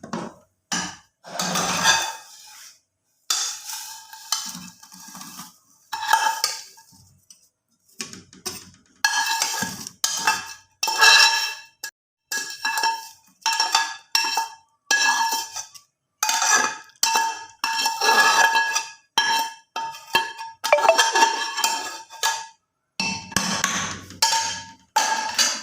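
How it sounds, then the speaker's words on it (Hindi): A spoon knocks and scrapes against a pot as vermicelli (sevaiyan) goes into thickened milk and is stirred, giving repeated metallic clatters in uneven bursts with short pauses. "अब तकरीबन हमारा दूध गाढ़ा होके 1 लीटर रह गया, तो हम अब इसमें डालते हैं सेवइयाँ।"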